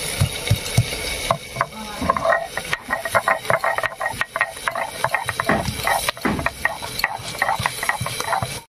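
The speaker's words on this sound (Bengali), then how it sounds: "এবারে ঢাকা দিয়ে আলুটাকে একটু ভাজা ভাজা মতো করে নিচ্ছি" Potatoes fry in a covered pan, giving a steady close sizzle with frequent clattering, scraping stirs and utensil knocks throughout.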